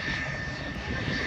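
Airplane flying overhead near an American military base in Tokyo during a festival, a loud, steady jet roar that fills the short moment without a break.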